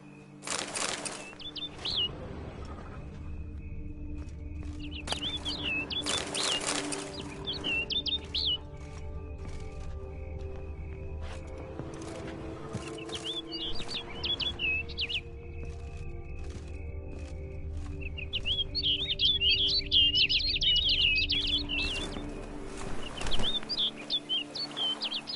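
In The Witcher 3 game world, a bird flutters its wings and gives repeated high chirps and tweets in scattered bursts, with a busier trill of calls near the end over a low, steady ambient hum.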